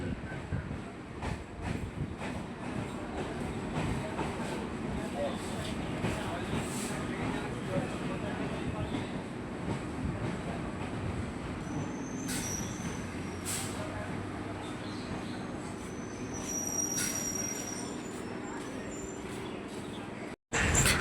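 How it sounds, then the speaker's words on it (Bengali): A Kolkata Circular Railway train pulls into Naliapur station with a steady, loud rumble of wheels on track, brief high metallic wheel squeals near the end, and a murmur of voices underneath. "শিয়ালদা স্টেশন থেকে 9 কিলোমিটার পথ অতিক্রম করে আমাদের ট্রেন এসে পৌঁছালো নিয়ালিপুর স্টেশন"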